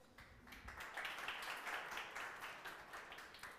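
An audience clapping at a motivational talk, a faint, steady patter of many hands that carries on evenly for several seconds.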